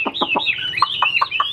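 A large-framed fighting rooster gives a rapid series of about seven loud, close, raspy clucks in an uneven rhythm, with no talking.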